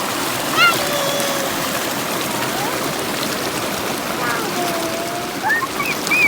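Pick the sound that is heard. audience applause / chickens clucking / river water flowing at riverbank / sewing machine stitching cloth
river water flowing at riverbank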